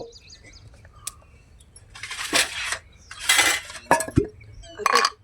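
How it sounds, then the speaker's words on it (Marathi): An iron kadhai set down on a clay wood-fired stove, giving several sharp metallic clinks and scrapes scattered among bursts of noise, close and fairly loud, with no speech. "आता आपण कढई ठेवू"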